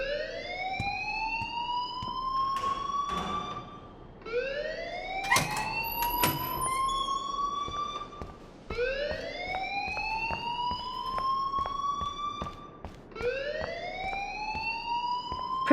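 The Life Is Strange video game plays a school fire alarm that repeats rising electronic whoops in a loud, steady cycle about every four seconds, with no talking.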